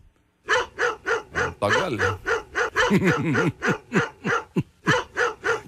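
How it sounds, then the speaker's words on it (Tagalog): A guard dog barks repeatedly in a steady run of a dozen or so loud, close woofs, with a few overlapping higher yelps mixed in partway through and no talk over it. "Narinig niyo na ho yung kahol."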